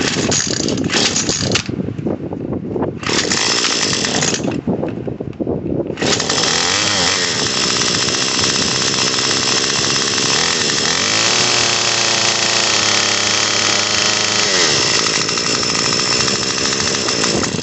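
A Remington RM2570 string trimmer's small two-stroke engine runs rich, loud and close, sputtering in short bursts at first, then settling into a steady, uneven, burbling idle.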